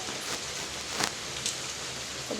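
Steady rain falls, a soft continuous hiss with a few louder drips, no voices.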